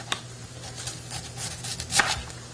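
A knife cuts through a washed vegetable on a board, making several soft, quiet chopping taps. The last stroke is firmer than the rest, and no one speaks.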